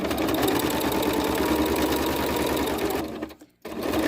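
A sewing machine stitches a quilt-as-you-go block in a steady, fast mechanical whir that pauses briefly near the end and then starts again.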